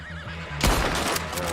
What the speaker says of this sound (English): you crazy thing, or is that a horsey?